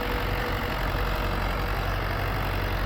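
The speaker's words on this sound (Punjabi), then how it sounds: "ਟਰੈਕਟਰ, ਜਾ ਰਿਹਾ ਆ ਰਿਹਾ, ਜਾ ਰਿਹਾ ਤੇ ਆ ਰਿਹਾ" A tractor engine runs at a steady, even rumble while the machine works back and forth making field ridges. The sound is continuous and fairly close, with no voices.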